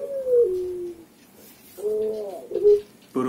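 A spotted dove cooing close by, a few low, throaty coos separated by short pauses, loud and clear with no talking.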